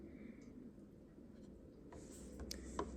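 Bare-metal foil being burnished down onto a surface gives a faint, steady scratchy rubbing, with a few slightly sharper strokes near the end and no talking.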